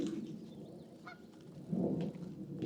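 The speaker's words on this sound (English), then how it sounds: "We'll change the name to Georgia geese then, since they're not Canadian." Geese in Georgia honk in a few soft calls at a middle distance over low, rumbling outdoor background noise.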